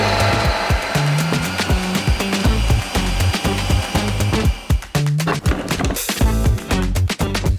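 A Ninja Creami ice cream maker runs while processing frozen rice pudding, a loud, steady mechanical grinding and whirring with rhythmic pulsing chunks, close and alone throughout.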